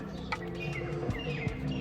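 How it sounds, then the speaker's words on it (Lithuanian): Birds chirping on a morning in India, short bright tweets and calls repeating at irregular intervals over a steady, busy background hum, moderately near. "paukščiai čiulba nuo"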